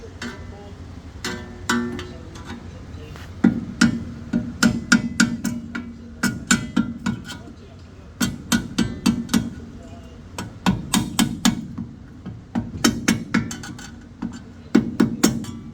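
Sharp metallic hammer strikes staking over a metal tab on a Pontiac LeMans come in quick bursts of several blows, with short pauses between groups, close and loud.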